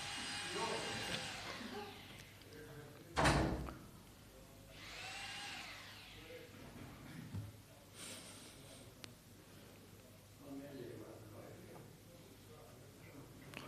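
Drilling in a building near a spiritual program room in Ljubljana comes in several faint whining bursts, with talking throughout and a sharp loud noise partway.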